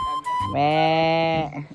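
A startled goat bleats once, a loud harmonic cry lasting close to a second, preceded by a shorter faint call and followed by quiet outdoor background.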